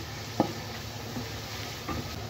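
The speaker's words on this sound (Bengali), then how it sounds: "পেঁয়াজ কুচিগুলো আমি এখন একটু বেরেস্তা করে ভেজে নিচ্ছি।" Finely chopped onions frying in a pan into crisp birista for pulao, a soft steady sizzle with a few light clinks and scrapes of stirring, close and fairly quiet.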